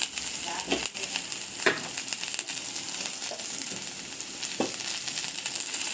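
Chopped onion and chili fry in a pan over low heat while being stirred, giving a soft, steady sizzle with scraping and crackling stirring noises coming and going.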